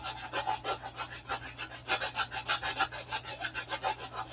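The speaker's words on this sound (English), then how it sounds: "So we'll get a 3/16 piece of copper here. We'll sand up in here." A 3/16 piece of copper is sanded by hand in a hangar, with quick rhythmic rasping strokes repeating close and loud, and no talking.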